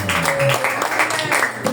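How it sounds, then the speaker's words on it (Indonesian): A church congregation clapping during a worship service, a dense burst of applause heard close and fairly loud, with voices and singing tones mixed in. "Tepuk tangan buat lagi."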